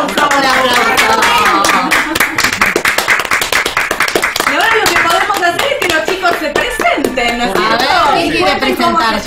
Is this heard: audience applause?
yes